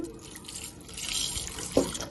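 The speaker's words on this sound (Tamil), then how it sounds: "அதை வந்து குக்கரில் கொஞ்சமாக தண்ணி சேர்த்து" Water runs from a tap into a pressure cooker holding about a quarter kilo of potatoes, a steady splashing pour that swells midway and ends with a short gurgle.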